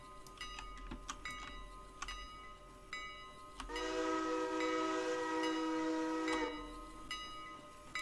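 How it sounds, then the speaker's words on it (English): In the Railroader video game, a freight locomotive sounds a long steady whistle blast at a crossing, loud for about three seconds, framed by sharp rhythmic clanging of the crossing bell before and after. "There's a whistle over the crossing."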